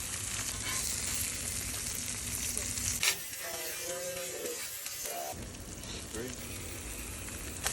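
Eggs fry in butter in a pan with a steady, close sizzle that dips briefly midway. A faint voice is heard over it.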